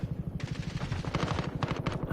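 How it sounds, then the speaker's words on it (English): Rapid bursts of automatic gunfire in a video game rattle in a fast, regular rhythm, slightly distant and continuous throughout. "I know I'm still safe, and I hear some gunfire."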